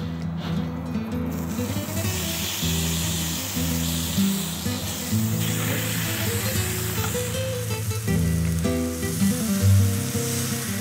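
Thin pieces of heart meat frying in a light coating of olive oil in a pan over medium heat, a steady close sizzle under soft background music with no talking.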